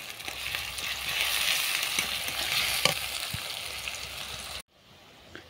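Cumin seeds, chopped salted onion and garlic paste frying in oil in a pan for a dried fish curry, a steady close sizzle with stirring scrapes that cuts off abruptly near the end.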